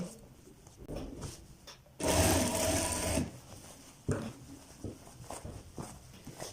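A sewing machine stitching a kalidar kurta, with a loud burst of rapid mechanical stitching for about a second amid quieter handling clicks and fabric rustle.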